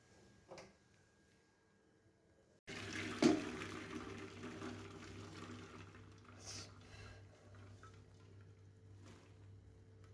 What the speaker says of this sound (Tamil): வடிகட்டின பின்னாடி பச்சை தண்ணி ஊற்றி வடிகட்டிக்கலாம்.